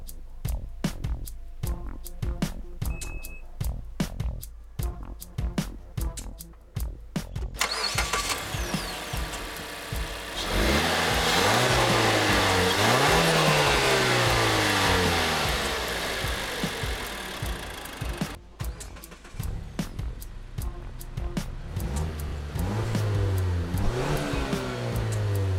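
A 2016 Mazda CX-9 Grand Touring AWD's Skyactiv-G 2.5T turbocharged four-cylinder starts up, then revs repeatedly, its pitch climbing and falling in loud swells before settling back to a steady idle, with no talking.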